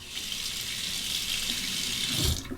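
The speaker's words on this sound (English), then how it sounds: "I'll temper the razor under the hot water." Hot water runs from a sink tap over a Parker 74R heavyweight twist-to-open safety razor fitted with a Derby blade. The stream is a steady, close splashing rush that lasts throughout, with no talking.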